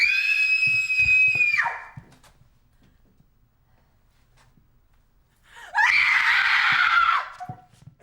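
A person screams twice, each a loud, sustained, piercing cry that holds for over a second and then drops off sharply, with a few seconds of near silence between the two.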